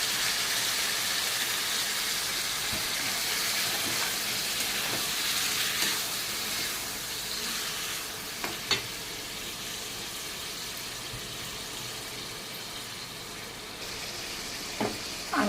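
Marinated chicken pieces sizzle in hot oil in a steady, fairly loud hiss that softens slightly partway through, with a few sharp utensil clinks near the end.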